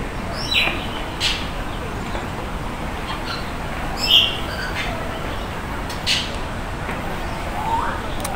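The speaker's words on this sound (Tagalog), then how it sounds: "ang gandang pakinggan ang mga huni nila" Birds in an aviary park in Kowloon, Hong Kong give short, high chirps and calls that come and go every second or two over a steady background hum, with a soft coo underneath.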